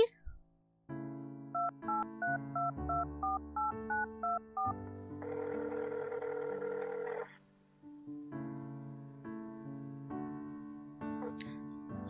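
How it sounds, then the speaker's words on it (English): Telephone keypad dialing tones in a Minecraft roleplay, a run of about eleven short evenly spaced beeps, followed by a sustained buzzing tone, all set against a steady background music bed without speech. "I'll call her so you can talk to her."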